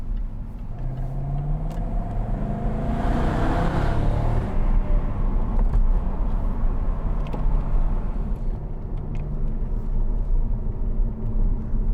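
A 2012 Jaguar XK 5.0 V8 Portfolio two-door coupe cruises in traffic with the windows partly down, giving a steady, close engine rumble mixed with road and wind noise, with no talk.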